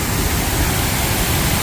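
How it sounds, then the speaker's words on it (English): A waterfall in Framingham, Massachusetts makes a steady, dense rushing roar that fills the scene without a break, close and loud, with no voices. "So I wanted to show you guys the waterfall."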